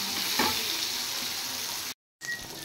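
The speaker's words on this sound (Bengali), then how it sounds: "এবার এগুলো একটু ভালো করে ভেজে নেব।" Eggplant pieces seasoned with salt and turmeric fry in hot oil with a steady, close sizzle that cuts out briefly near the end before resuming.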